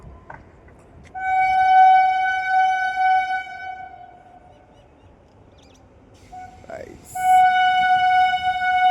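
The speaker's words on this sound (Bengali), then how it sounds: "ও আবার দাঁড়িয়ে দাঁড়িয়ে হরেন মারছে।" A local train, the first morning local, sounds a long steady horn while halted, then blasts again in a second loud stretch, with a voice speaking briefly between the blasts.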